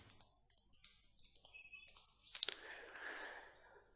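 Computer keyboard keys are tapped while drafting in a CAD program, a quiet run of short, crisp clicks in uneven bursts, followed by a louder clatter and a soft, breathy rustle.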